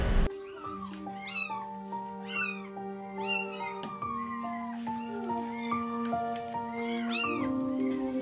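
Young kittens meow repeatedly in a quiet room, with high, rising and falling cries from several animals overlapping and close, while a low steady tone hums underneath.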